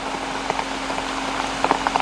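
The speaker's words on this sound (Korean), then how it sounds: "7월 중순 지리산에 장맛비가 내리고 있다." Mid-July monsoon rain falls on Jirisan mountain in Korea, a steady soft patter with a low constant hum under it and some sharper drops near the end.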